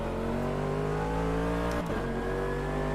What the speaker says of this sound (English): Oh, this car's really loud.